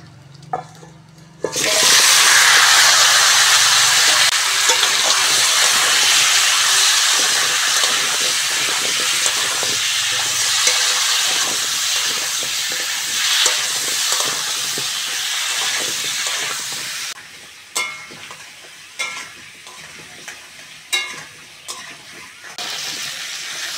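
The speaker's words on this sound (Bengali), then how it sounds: "এবার চিংড়ি ভাজার তেলের মধ্যে আলু, পটল আর কুমড়োটা ভেজে নেব।" Potato, pointed gourd and pumpkin pieces dropped into oil left from frying prawns, bursting into a loud, dense sizzle that gradually settles, then gives way to quieter scraping and stirring clatter.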